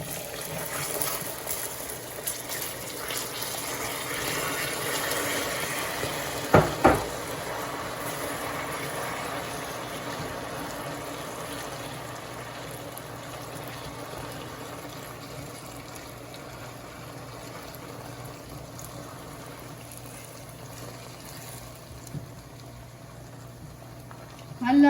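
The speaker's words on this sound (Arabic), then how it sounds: "لما صار عندي السكر بلون الكراميل صار لازم فرغ فوق منه المي، بس برجع شوي لورا وبخفف النار على الاخر وبسقط المي" Water poured onto caramelized sugar in a hot pan over low heat for Lebanese bread pudding gives a long bubbling, boiling hiss with a sharp spit early on, steady and close, with some talk over it.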